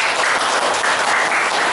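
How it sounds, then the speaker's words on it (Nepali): Loud, sustained applause from a live concert audience in Japan, a dense, even wash of many hands clapping that fills the whole stretch without a break. "सन्तोषजी दीपक सरको लागि जोरदार ताली बजाइदिनु"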